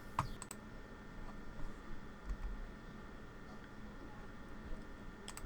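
Someone types on a computer keyboard in a quiet room, producing soft, scattered key clicks over several seconds, faint and close, with no speech.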